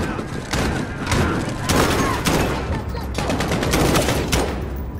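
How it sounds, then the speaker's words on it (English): Shotguns fire with incendiary rounds during a Call of Duty Modern Warfare firefight, loud repeated blasts and rapid bursts of gunfire with heavy thuds, dense and close throughout. "Those shotguns are freaking harsh."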